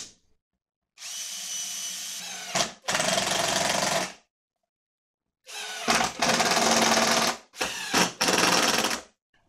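A power drill drives screws into plywood for a wooden table saw fence, with two loud, close whirring bursts followed after a pause by three more, each ending abruptly in silence.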